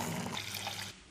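Water runs steadily from a Pronteau 4-in-1 kitchen mixer tap, a continuous splashing rush that cuts off abruptly near the end.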